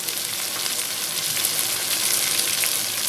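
Chilli and masala sizzle loudly in hot oil with okra, a dense, unbroken frying hiss close up throughout.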